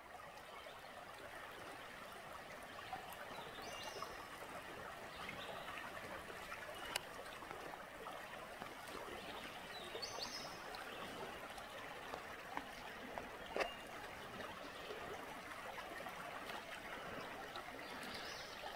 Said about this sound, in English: Creek meanders down through here.